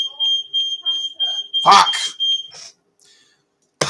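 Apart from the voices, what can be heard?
smoke alarm going off while cooking pasta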